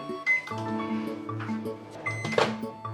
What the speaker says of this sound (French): Donc micro-ondes pendant 30 secondes. Et je vais pas le mettre au maximum, on va le mettre à 600